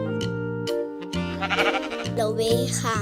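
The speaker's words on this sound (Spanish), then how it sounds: "La oveja." A sheep bleats in several loud, wavering calls, close and alone with no talk, as one of a series of farm animal sounds for children.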